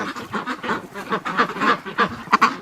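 A Rouen duck kept in a cold back room gives a rapid series of loud, close, raspy quacks in an uneven rhythm, with no other sound.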